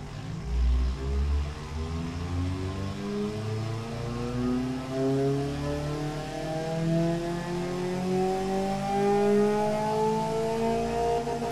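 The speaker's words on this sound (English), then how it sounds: "So let's start it up. You will also be able to hear the engine a little bit" A video game car engine in Automation turns over and revs, its pitch climbing steadily through repeated surges, loud and close with no talking.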